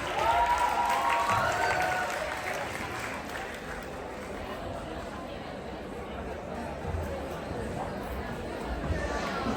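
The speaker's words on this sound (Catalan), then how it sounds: "un fort aplaudiment per aquests nois!" An audience at a secondary school end-of-year closing ceremony applauds in a dense, sustained wash of clapping that swells at first and then holds steady, with crowd chatter and a voice over it.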